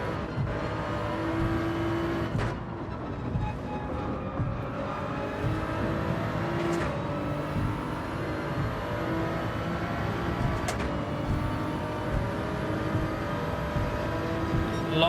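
Race car engines scream through a Gran Turismo 7 race started from the back of the grid, a dense, continuous blend of revving and whining engines with rising and falling pitch and occasional sharp gear-change dips, loud and steady.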